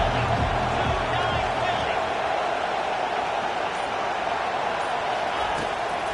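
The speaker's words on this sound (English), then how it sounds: "Decibels rising as the crowd gets behind this defense on third down." Dense, steady stadium crowd roar in a football video game, swelling as the defense lines up on third down, continuous and fairly loud with a faint low rumble beneath.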